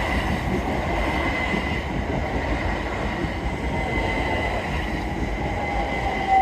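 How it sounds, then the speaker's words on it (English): A red train passing a level crossing near a fish and chip shop gives a steady, fairly loud rumble of wheels on rail with a faint high squeal near the end, heard alone with no talk. "Oh, we have another train coming,"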